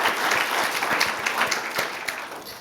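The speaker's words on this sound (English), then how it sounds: "please give a round of applause to our keynote speakers, technical keynote speakers" Audience at a technical conference keynote applauds steadily, a dense wash of many hands clapping at moderate distance, sustained for a couple of seconds without speech.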